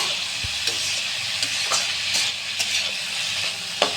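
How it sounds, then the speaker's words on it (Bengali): Rohu fish mixture fries in a wok with a steady high sizzle, while a spoon stirs it in repeated scraping strokes. The strokes come every half second or so, sounding close and moderately loud, and no one talks over them. "এটা নাড়াচাড়ার পরে একটু ভাজা ভাজা হচ্ছে"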